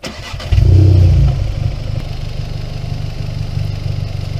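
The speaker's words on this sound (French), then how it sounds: "c'est plus le bruit du moteur" A Volkswagen Golf 7 GTI engine cranks and catches with a loud surge, then settles into a steady, low rumbling idle, close by.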